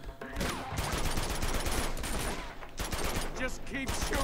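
Dense, continuous gunfire from the Uncharted 2: Among Thieves video game crackles and pops without pause, layered shots and impacts forming a busy, steady barrage.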